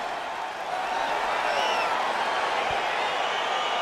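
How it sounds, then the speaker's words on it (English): Crowd noise from a UFC 4 fighting video game arena, a steady broad roar of cheering and murmur that holds at an even, loud level throughout with no talk over it. "crowd getting excited as this fight gets underway"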